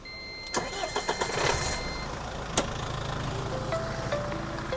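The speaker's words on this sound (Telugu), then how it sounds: "ఇంజన్ కూడా స్టార్ట్ చేసి మళ్ళీ చూపిస్తాను మీకు" A 2010 Mahindra Scorpio engine cranks briefly, catches and settles into a steady idle, close by and fairly loud, with a few clicks and a sharp knock before the rumble evens out.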